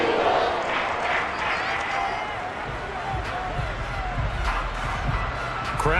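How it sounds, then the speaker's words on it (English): Stadium crowd noise in Madden NFL, a steady murmuring roar with scattered claps and thumps, running under near-constant commentary. "Crowd getting in it a bit already."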